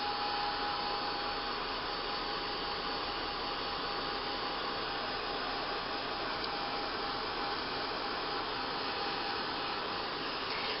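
A steady, loud whooshing hair dryer blows continuously to dry acrylic paint on a craft butterfly, a constant airy roar with no pauses.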